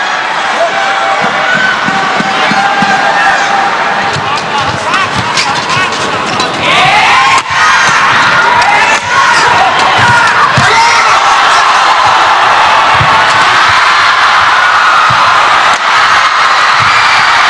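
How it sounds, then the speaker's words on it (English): A large crowd roars and cheers continuously at a men's team badminton semi-final between Singapore and Malaysia, a dense, loud wall of noise that swells further partway through, with a commentator's voice running under it. "Listen to the crowd."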